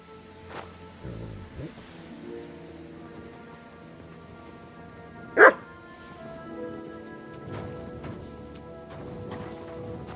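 Mutt, the dog companion in Kingdom Come Deliverance 2, gives a single short bark midway through, loud against a quiet outdoor game ambience with faint footsteps and rustling.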